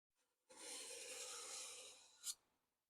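A steel card scraper with a burred edge drags across wood in one steady, faint rasping stroke lasting about two seconds and ending in a brief sharper scrape.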